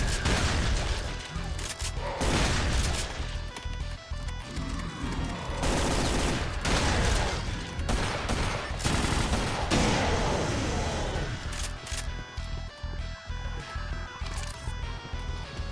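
Intense gunfire from enemies in a custom video game map, with rapid automatic bursts, booming shots and crashing impacts filling the scene almost without pause, loud and close.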